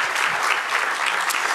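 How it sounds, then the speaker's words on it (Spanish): A church congregation claps in applause during a Spanish-language worship service, steady dense clapping filling the whole moment with no voices over it. "Dale otro aplauso a nuestro Dios."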